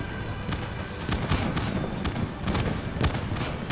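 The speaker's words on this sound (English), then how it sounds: "Fireworks are going crazy." Rapid pops and thumping bursts of fireworks at a winter solstice celebration in the video game My Time at Sandrock, repeating irregularly throughout, mid-distance and moderately loud against a busy game soundscape.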